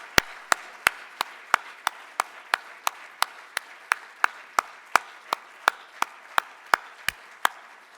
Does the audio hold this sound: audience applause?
yes